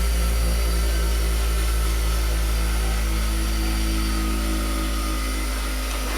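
A small bench grinder, a cheap fifteen-dollar unit, runs steadily after being plugged back in, giving a constant motor hum with a high whine, close and unchanging throughout.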